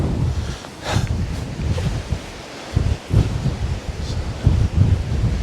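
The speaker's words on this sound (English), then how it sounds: "I just wish the wind would ease off." Strong gusts roar across the microphone at Santon Gorge on the Isle of Man, a loud, buffeting rumble that rises and falls in uneven surges throughout, with no voices.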